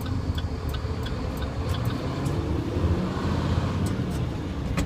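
A truck with a 10-speed transmission pulling away in first gear, a steady low engine drone with faint ticking clicks over it throughout.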